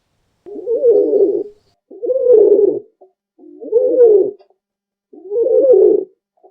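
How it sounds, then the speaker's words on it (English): A pigeon coos four times, each a loud, close, low rolling call with brief pauses between them. "The pigeon coos gently."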